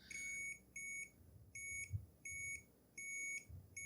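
A multimeter's continuity tester beeps on a Super Nintendo power supply, giving six short, clean tones that stop and start in an irregular on-off pattern, fairly quiet with faint handling clicks between them.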